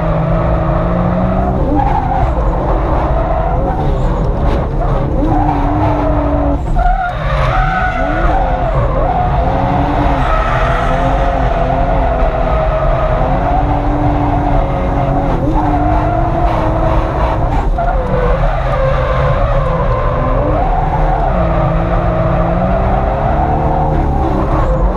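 A drift taxi car slides through a hot lap: loud, continuous engine roar rising and falling, with tires squealing and skidding throughout, heard from inside the car.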